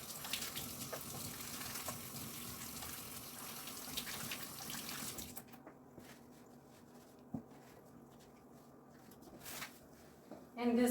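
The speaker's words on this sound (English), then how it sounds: "we're going to wash our hands." Tap water runs steadily into a sink during handwashing in a food lab, fairly loud at first, then cut off to quiet room noise with a few small knocks.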